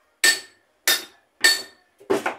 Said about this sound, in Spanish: con un masito lo voy pegando poco a poco